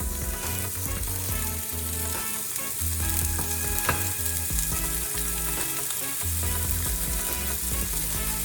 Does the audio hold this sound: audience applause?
no